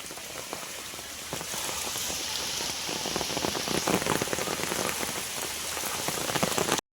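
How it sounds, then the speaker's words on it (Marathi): Heavy rain pours steadily, a thick roar of drops pattering on surfaces, loud and unbroken until it cuts off at the end. "पाऊस कंटिन्यू थांबलोच नाही पाऊस अजिबात"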